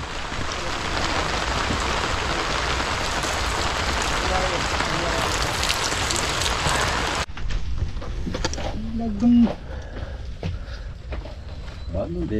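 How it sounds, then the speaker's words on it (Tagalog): Heavy rain hisses steadily over a rural farm plot during a typhoon, then cuts away to quieter ambient noise with scattered knocks and a brief voice. "Muulan."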